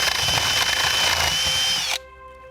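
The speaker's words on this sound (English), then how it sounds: "So we're using a 3/4 inch paddle bit, and the reason being is that's the exact diameter of the copper that we're using." A power drill fitted with a 3/4 inch paddle bit bores through wood with a loud, steady whine, then stops abruptly, leaving a faint ringing tail.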